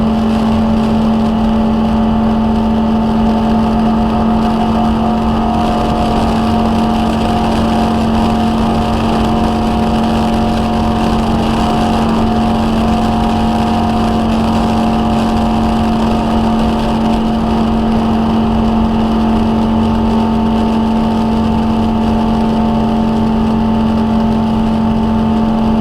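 A NASCAR stock car engine sits on the rev limiter on the high banks at Michigan International Speedway, a loud, sustained, unwavering drone heard from inside the car, with no voices.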